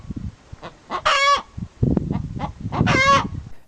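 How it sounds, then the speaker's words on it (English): A hen cackles loudly after laying an egg, two sharp honking calls spaced about two seconds apart, with softer clucks and rustling between them. "When a hen is done laying their egg, they like to announce it."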